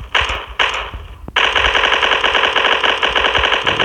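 AWP sniper rifle fire in the Block Strike shooter game, heard as loud sharp gunshot bursts, a few separated hits at the start and then a dense, continuous rattle of rapid game gunfire with no talking.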